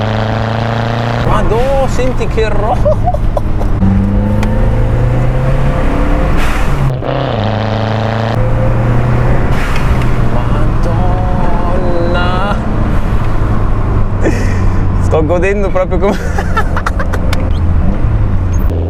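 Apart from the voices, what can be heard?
Lancia Delta Integrale Evo 2 engine while driving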